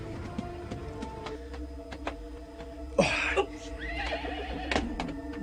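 Horse whinny sound effect in a Cebuano-language Lone Ranger radio drama: a sharp, loud neigh lands partway through, followed by a second shorter whinny against a faint background bed.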